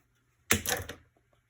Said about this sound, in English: I'm just going to cut the 4 of those off.